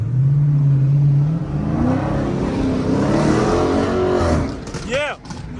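Heavily cammed Chevrolet Camaro engine revving hard in traffic, a loud, rough, choppy roar that rises and falls steadily, with people talking excitedly over it.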